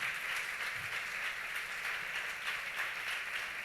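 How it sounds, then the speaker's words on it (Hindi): A church congregation applauds at a Hindi worship service, a dense, steady wash of clapping that holds evenly from start to finish with no voices on top. "पीछे वाले ताली नहीं बजा रहे हैं, आप लोग बजाइए"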